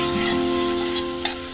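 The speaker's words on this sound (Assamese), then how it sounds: "এনেকৈ আৰু 5 মিনিট মই এনেকৈ ভাজি ল'ম।" Ginger garlic paste frying in a pan sizzles steadily and close by, with a few sharp stirring clicks and scrapes breaking through the hiss.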